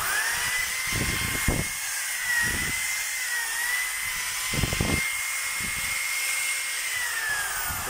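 An electric drill with a faulty chuck is test-run in short bursts, its whining motor rising and falling several times over a steady background hum, close and fairly loud.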